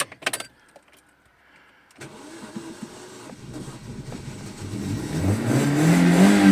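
A car engine that had sat for three months cranks after a short clatter, catches, and then revs up, rising louder and steadier toward the end. No one speaks.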